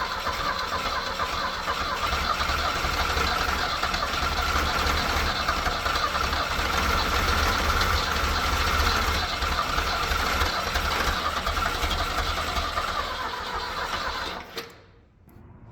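The petrol engine of an old Mustang skid loader runs with its choke off and governor unhooked, a steady, close mechanical drone that holds for most of the clip before suddenly cutting out near the end.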